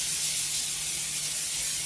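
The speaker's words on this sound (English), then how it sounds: "First, we gotta spray down that pan." Cooking spray hisses in one continuous, even burst onto a pan heated to 400 degrees, close up and steady for about two seconds with no voices.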